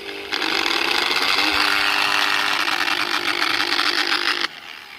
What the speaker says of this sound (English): My angle grinder stopped working.